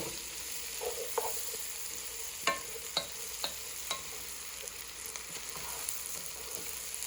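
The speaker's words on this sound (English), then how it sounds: "I'm going to let those mushrooms cook down for a little bit first" Mushrooms sautéing in a pan over medium heat after caramelized onions: a soft, faint steady sizzle with a few sharp clicks and taps of a utensil stirring against the pan, no talking.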